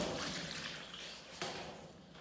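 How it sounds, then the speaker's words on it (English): Water is poured to rinse out a rabbit cage, making a faint, continuous wash of splashing and draining liquid with a small splash near the end. "I'm going to pour one more water to finish off the wash."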